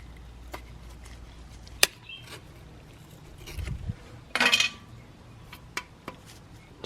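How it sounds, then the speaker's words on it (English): Razor blade scraping old gasket material off a Toyota Tacoma differential surface, a short burst of gritty rasping midway through, with sparse clicks and taps around it. "we're going to achieve that by using a razor blade. You can see that scraping off."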